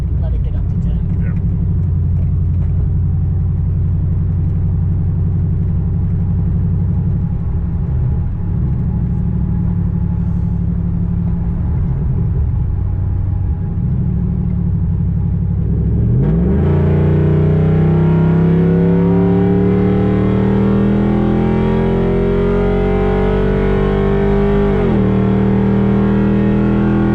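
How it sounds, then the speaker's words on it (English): A Ford car cruises at 95 miles per hour around a curve, its steady loud engine rumble and road roar filling the cabin, rising into a higher, shifting drone near the end. "this is 95 miles an hour just cruising around a curve like nothing"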